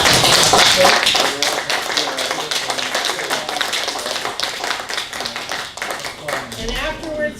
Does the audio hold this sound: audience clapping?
yes